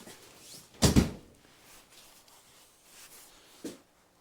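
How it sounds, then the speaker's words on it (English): An interior door in a metal-sided workshop swings shut with one solid, close thump, followed by faint room noise and a softer knock a few seconds later. "let me shut the door because it's colder in there"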